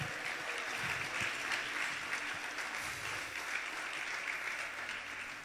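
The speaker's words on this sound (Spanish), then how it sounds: "Dele un aplauso al Señor." A church congregation claps steadily during an evangelical service, a continuous wash of many hands heard at moderate distance for several seconds with no speech over it.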